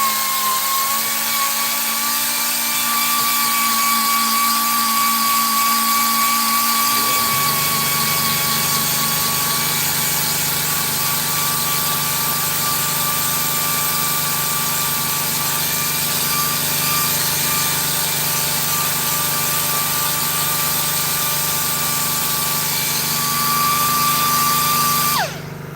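Coarse sandpaper rubbing against a brand-new custom e-bike hub spinning on a lathe or motor, a continuous loud whirring hum with steady tonal whine and gritty friction, no speech.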